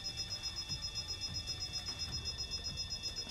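A blaring alarm in the video game Goddess of Victory: NIKKE sounds as a steady, faint high electronic tone that pulses rhythmically on its own for a few seconds.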